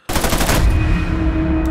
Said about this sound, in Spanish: Disparo, pium, pium, pium, pium, juego de pistolas.